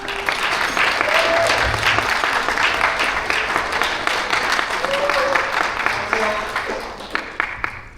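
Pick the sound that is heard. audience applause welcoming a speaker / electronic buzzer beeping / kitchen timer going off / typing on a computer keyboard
audience applause welcoming a speaker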